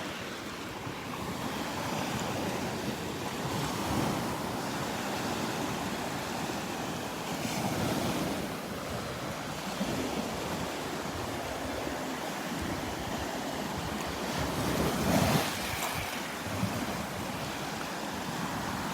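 Ocean surf rolls and breaks steadily on the beach at Delnor-Wiggins, a continuous loud wash with periodic swells and some wind buffeting the microphone.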